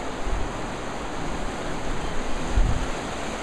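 Continuous rushing of the Truckee River flowing, a steady broadband wash close by with small surges, no voices.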